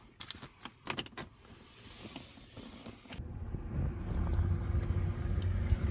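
Blower fan motor of an Audi Q7 heater and air conditioning system, starting after some handling clicks and then running as a steady low whirring hum that builds slightly and continues to the end, nearby and moderately quiet.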